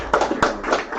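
Audience clapping at a React developers' meetup, a short burst of scattered hand claps from a small crowd, near and fairly loud, cut off after about a second.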